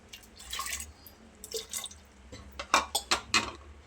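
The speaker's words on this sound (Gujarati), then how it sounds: "एमां जरूरियात मुजबनुं આપણે પાણી ઉમેરીશું।" Water poured into a pressure cooker over soaked split moong dal with skins gives close, uneven splashes and drips in short bursts, growing denser and more clustered toward the end; no voices.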